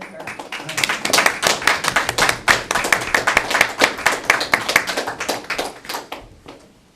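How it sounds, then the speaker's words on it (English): Applause at a county board of commissioners special meeting, a modest roomful of distinct hand claps rolling steadily for several seconds before tapering off, no talking. "And we'll applaud with her."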